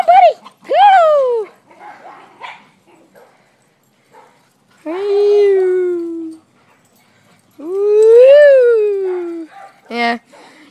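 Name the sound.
dogs barking and whimpering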